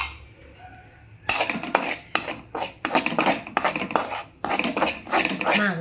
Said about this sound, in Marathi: तर 1 चमचा हळद टाकत आहे बघा.